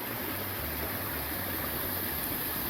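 Ivy Creek flows along the Appalachian Trail in Shenandoah National Park, Virginia, giving a steady close rush of water with no voices over it.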